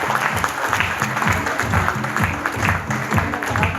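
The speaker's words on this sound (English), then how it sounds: "एक बार जोरदार तालियां हो जाएं" Enthusiastic audience applause fills a crowded event hall, steady dense clapping sustained throughout with rhythmic swells, loud and close.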